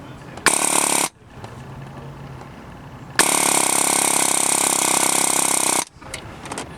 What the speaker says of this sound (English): with the air chisel, you simply put your chisel in there